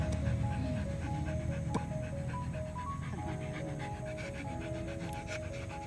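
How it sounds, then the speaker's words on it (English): A Rottweiler pants steadily during a walk outdoors, with quick rhythmic breaths close by over a continuous background hum and faint tonal sounds. "So she is our Rottweiler guys, our second Rottweiler."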